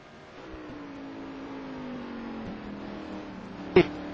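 A race car engine at the Magny-Cours circuit during an ETC Black Cup round, a steady hum that rises gently as the car crosses the finish line, followed by a sharp, brief burst near the end.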